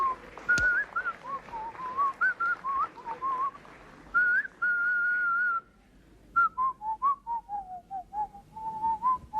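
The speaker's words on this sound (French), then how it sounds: "On n'entre pas dans un bureau administratif en sifflotant." Someone whistles a wandering, cheerful tune on entering an administrative office, the melody close and clear with brief pauses and shifts in pitch, no talking over it.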